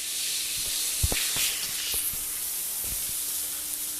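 Fish curry with green chillies and cumin paste sizzling in a pan, a steady close hiss with a few soft knocks from stirring scattered through it and no talking.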